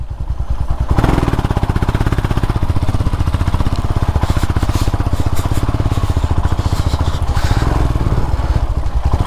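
A Royal Enfield Himalayan motorcycle engine starts and runs with a steady, loud, close thumping beat near Shivagange hill, with no voices over it.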